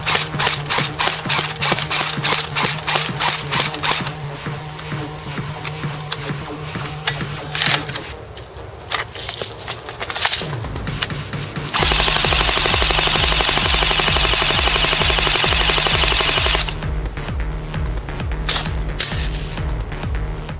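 Well R4 MP7 AEP airsoft electric gun firing in rapid full-auto bursts of fast mechanical clatter, with pauses between strings and one long sustained burst, close and loud.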